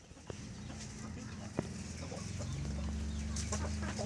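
An Aseel rooster of the Parrot strain crows in a drawn-out call that builds toward the end, close by, over a steady farmyard background with other fowl faintly audible.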